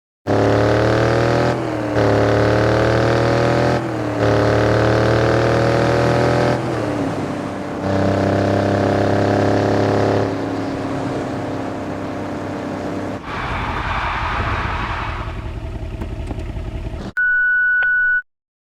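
A restored Mercedes G-Wagon with a modified turbo and intercoolers revs loudly up close in several rising pulls with short gaps between them, then drops to idle, and a brief beep sounds at the end.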